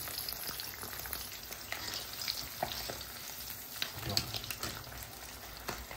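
Whole fish are left to fry crispy in hot oil, giving a steady, soft sizzle and crackle with scattered pops throughout and no talking.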